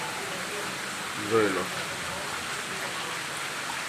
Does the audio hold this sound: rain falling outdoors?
yes